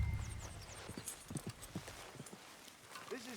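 Horse hooves clip-clop in the video game Red Dead Redemption 2, a quick, even series of close, moderately loud footfalls that fade toward the end.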